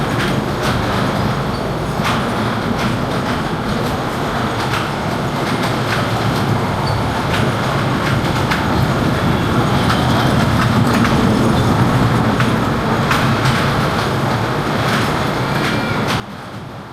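A small children's ride-on train rumbles steadily along its track with a continuous low roar and faint clattering, no voices, ending with a sudden drop near the end.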